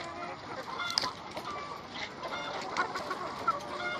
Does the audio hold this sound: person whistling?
no